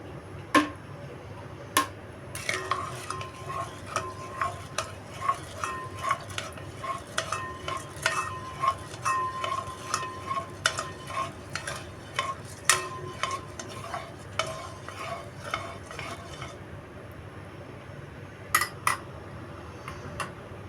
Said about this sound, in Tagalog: isimix ko na yung gata